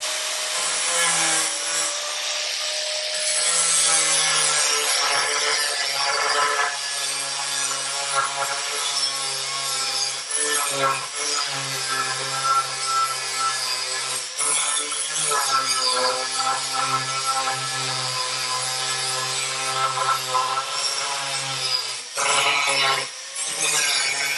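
A Metabo 11-amp angle grinder fitted with a partly used 4.5-inch Norton blade cuts through steel rebar, a loud, steady high-pitched whine and grinding roar lasting throughout with small dips in pitch, no talking.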